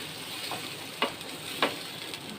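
Water splashes into a frying pan of sautéed spices for a fish curry with eggplant, potato and lentil dumplings, giving a low sizzle with a few sharp spits and clinks of the pan.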